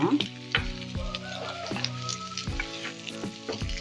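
Sugar sambol with amla frying in a pan, a soft bubbling sizzle punctuated by several sharp knocks and scrapes of a spoon, fairly quiet and close.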